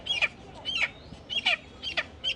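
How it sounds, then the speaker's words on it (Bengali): Chickens from Barishal cluck in short, bright bursts, about six or seven calls spread over a few seconds, close by and fairly clear against a quiet background. "মুরগি আনলাম বরিশালের মুরগি।"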